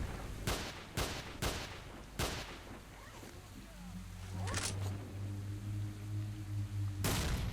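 Shotgun blasts ring out in S.T.A.L.K.E.R. Shadow of Chernobyl, several sharp loud reports spaced irregularly, with in-game rumbling and a player speaking between shots.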